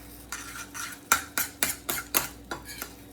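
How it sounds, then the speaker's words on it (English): Scrambled eggs being stirred in a pan, a close series of about eight rhythmic scraping strokes of a utensil against the pan with a faint sizzle underneath. "Just keep stirring around."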